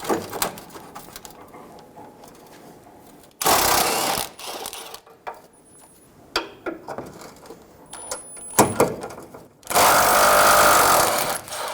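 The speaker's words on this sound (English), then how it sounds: "Remove the bolts." A power tool whirs in two loud bursts while radiator support bolts come out of a 2000-2007 Ford Focus, with quieter clicks and clanks of work in between and no talking.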